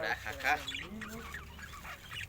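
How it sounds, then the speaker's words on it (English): Birds calling outdoors, a flurry of harsh, honking, goose-like calls overlapping in quick succession at close range. "you can look here so many birds."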